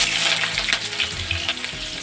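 Chopped onion sizzles and crackles in a hot pan, a steady loud frying hiss close by with light stirring clicks and no voices.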